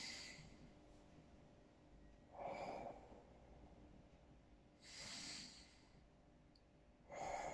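Three slow, deep breaths in and out during a recorder lesson, soft airy inhales and exhales at close range, spaced a couple of seconds apart in a quiet room.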